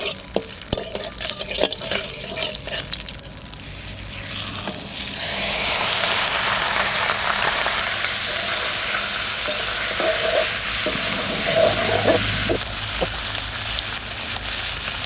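Small fish hitting hot mustard oil with bay leaf, dried chilli and cumin, the sizzle jumping to a loud, steady frying hiss that continues close and alone, with occasional stirring clinks.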